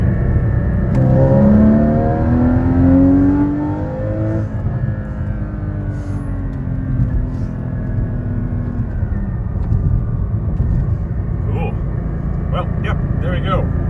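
A Porsche 981 Cayman engine with BMC high-flow air filters and no exhaust fitted revs hard and rises in pitch, then settles into a steady, loud idle with a raspy, shrill intake edge.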